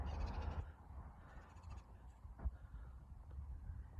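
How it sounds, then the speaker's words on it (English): Two crows caw outdoors, giving a few harsh, rasping calls at moderate distance over quiet background rumble, with one sharper call standing out partway through. "It's a bird making that noise. 2 birds."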